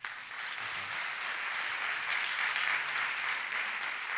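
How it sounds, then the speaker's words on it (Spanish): Audience applause for a speaker at the Naukas Bilbao 2013 science talk event: steady, dense clapping from a crowd that holds evenly throughout. "Un aplauso para él."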